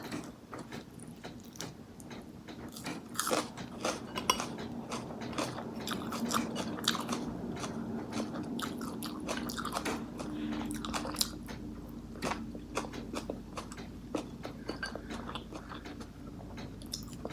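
Crunchy white asparagus is eaten with tuna pon: close, repeated crisp bites and wet chewing crunches in a steady, irregular rhythm, with no talking.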